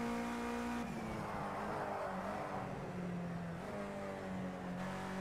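Race car in Project Cars 2 at Donington Park National, engine droning steadily with shifting pitch as it drives, loud and continuous with no talk.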